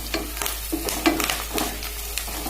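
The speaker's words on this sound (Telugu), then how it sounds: "ఉల్లిపాయలు చిన్న చిన్న ముక్కలుగా కట్ చేసుకొని అన్నీ వేసుకొని గోల్డెన్ బ్రౌన్ కలర్ వచ్చేంత" Chopped onions fry in hot oil for a Nellore-style fish curry, giving a continuous close sizzle. Repeated stirring and scraping strokes sound against the pan.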